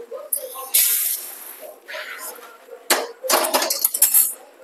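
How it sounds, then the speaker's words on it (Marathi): Roasted coriander seeds scraped and tipped out of a hot pan while making tak masala: dry rattling and scraping in short bursts, with a clatter near the start and a busier run of rustling toward the end. "धने काढून घेऊया।"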